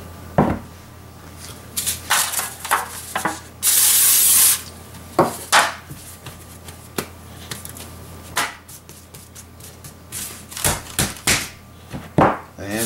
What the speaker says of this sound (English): I'm going to go ahead and spray these, little standard cooking spray